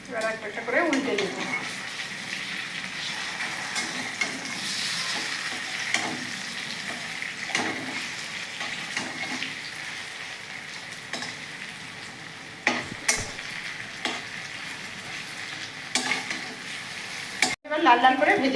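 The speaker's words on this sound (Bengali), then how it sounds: "এবার লাল লাল করে ভেজে নেব উল্টে পাল্টে।" Fritters fry in hot oil in a karahi while being turned over, giving a continuous sizzle broken by scraping and clinking stirs of a utensil, with a voice talking over it.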